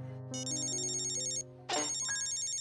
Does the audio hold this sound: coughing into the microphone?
no